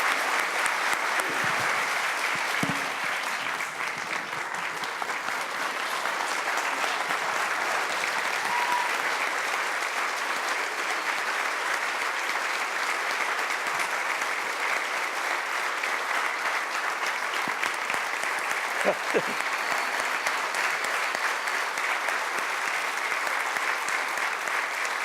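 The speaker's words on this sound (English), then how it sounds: "Can we have a round of applause?" An audience applauds steadily for about twenty-five seconds, a dense, even wash of clapping with no real rise or fall, a few louder claps popping out now and then.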